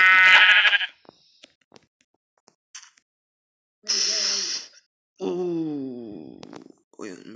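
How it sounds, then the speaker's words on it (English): Sheep bleating in the video game Minecraft, a few separate wavering bleats spread across the stretch with quiet gaps between them, alongside other short game sounds. "I just pushed a sheep into the lava."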